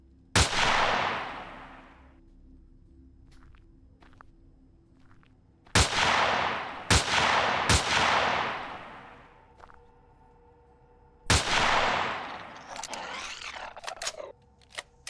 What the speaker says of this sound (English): The sniper rifle has a nice little crack to it.